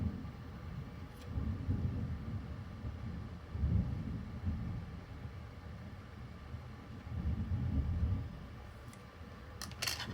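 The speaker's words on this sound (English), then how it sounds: "If you hear some rumbling in the background or experience a thunderstorm at the moment," Low, rolling thunder from a thunderstorm that has been moving in all day, with swells of rumble rising and fading over a steady indoor background, no talking.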